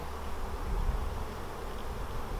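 Honeybees at an open hive during requeening make a steady, dense buzz, close and continuous, with a low hum running under the whole stretch and no voices.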